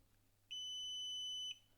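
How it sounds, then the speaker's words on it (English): A TOA CX-1000 surveillance system buzzer signals a station disconnection fault with a single steady high electronic tone lasting about one second, clean and alone against a faint hum. "the status LED will start blinking and turn yellow, and the buzzer will start to sound."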